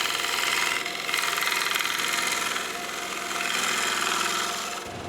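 A large eastern red cedar bowl spins on a big Oneway 24 by 36 wood lathe with a 17-inch extension, giving a steady loud whirring hum and tool-cutting rasp that dips briefly early and near the end.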